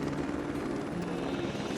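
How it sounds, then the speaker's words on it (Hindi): Helicopter engine and rotor drone, a steady, fairly loud continuous whir filling the short stretch without pause, close at hand. "ये हेलीकॉप्टर"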